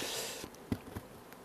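Honey bees buzz at a hive being smoked, a steady close hum with a few soft knocks and no voices.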